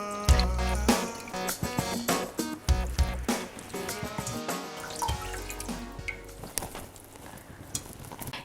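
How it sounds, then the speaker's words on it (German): Chicken wings draining in a sieve, water dripping in irregular close drops and trickles, heard under a soft tonal musical background. "Nun werde ich das Hähnchenfleisch in einem Sieb gut abtropfen lassen."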